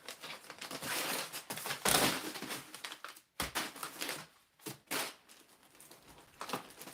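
Packing paper inside a Procharger shipping box rustles and crinkles as it is pulled out during unboxing, in close, uneven bursts of crumpling with short pauses between handfuls.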